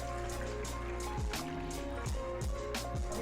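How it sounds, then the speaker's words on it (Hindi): A glass of water is poured into a chicken karahi pan with tomato puree, giving a bubbling, trickling splash that runs steadily for a few seconds, close and moderately loud. "और 1 ग्लास इसके साथ ही मैं पानी का डाल दूंगी"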